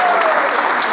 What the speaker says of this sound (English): Let's give East Wake Academy a round of applause.